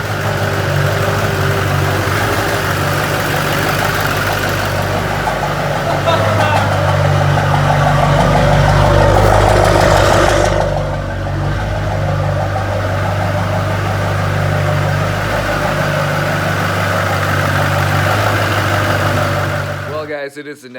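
A Duramax diesel in a Chevy squarebody truck fires and runs roughly, a close, loud low rumble that swells midway, then settles before cutting out abruptly at the end, with excited voices talking over it.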